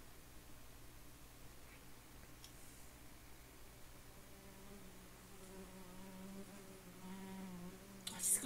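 A housefly buzzes faintly in a quiet room, a thin steady drone that grows a little stronger and closer near the end, with no talking.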